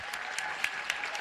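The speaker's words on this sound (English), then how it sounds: "One more round of applause for all the students" Audience applause for students at a school board of education business meeting, a steady wash of many hands clapping with a few sharper claps standing out, brief and fairly close.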